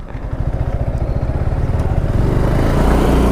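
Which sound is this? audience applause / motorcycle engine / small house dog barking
motorcycle engine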